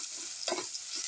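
Garlic, tomato and okra sautéing in a pan for a yogurt casserole make a steady, close sizzle, with one brief scrape of stirring partway through.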